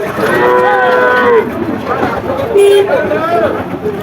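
Several cattle moo at a busy livestock market (cattle haat) with Shahiwal bulls, repeated drawn-out lowing calls rising and falling close by over a steady crowd hubbub of talking people.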